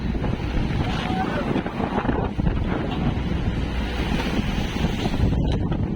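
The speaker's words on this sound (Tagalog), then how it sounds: "Mahangin na maalon pa." Strong wind buffets the microphone over a steady wash of waves on the Pacific Ocean during a fishing trip, loud and continuous throughout, with a faint voice somewhere in the mix.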